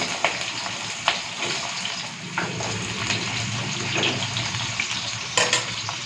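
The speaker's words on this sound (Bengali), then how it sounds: "প্রথমে আলুগুলো ভেজে নেব।" Potatoes frying in hot oil with whole cumin, a steady close sizzle broken by sharp clinks and scrapes of a spatula stirring in the pan, no voices.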